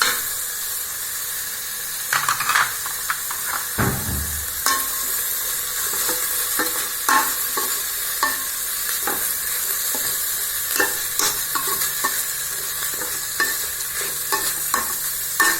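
Carrot and cabbage sautéing in a pan, a loud steady sizzle with hissing steam and repeated spatula scrapes and knocks, one heavy clunk early on, close and without talk.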